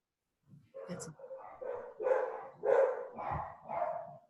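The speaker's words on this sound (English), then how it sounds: "My mailman's here and your dogs are barking." Dogs barking at a mailman, a run of several short barks and yips in quick succession, moderately near, with a person talking over them.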